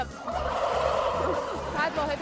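A flock of turkeys at a turkey production farm gobbles in a continuous, loud, warbling chorus nearby, with a faint voice underneath.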